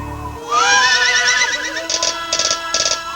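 A horse whinnies in a TV commercial, one loud, close neigh that rises then wavers and trails off into a few breathy pulses of sound over roughly three seconds, with no talk during it.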